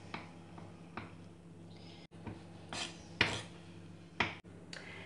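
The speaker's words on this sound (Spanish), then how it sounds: "Continuamos picando los huevos" A knife chops boiled eggs on a cutting board in a kitchen, giving a few sharp, close knocks spaced irregularly over a low steady hum, with no talking.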